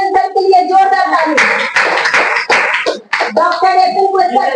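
Applause from an audience at a DXN meeting, bursts of hand clapping that rise and fall while a loud voice talks over them throughout.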